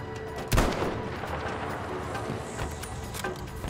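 A sniper rifle fires once in the Battlefield video game, a single loud, sharp report followed by a sustained wash of battlefield noise and distant rumbling.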